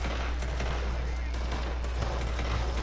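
Gunfire from a gun in Red Dead Redemption 2, dense rapid shots over a steady low hum, continuous and fairly loud throughout with no clear gaps.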